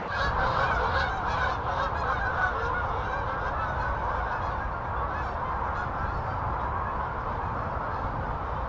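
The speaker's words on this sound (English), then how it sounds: "A lot of geese on the way to Brockles Nature Reserve, probably, which is across the river." A flock of geese honks continuously by a river near a nature reserve on a sub-zero winter day, the dense overlapping calls loud and steady throughout with no talking.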